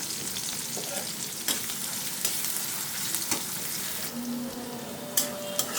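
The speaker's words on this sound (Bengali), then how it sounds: "দেখেন কাঁচামরিচ পেঁয়াজ ভাজা হয়ে গেছে হালকা" Green chillies and onions fry in a pan, giving a constant close sizzle and crackle with occasional clacks and scrapes from a spatula, steady and uninterrupted with nobody speaking.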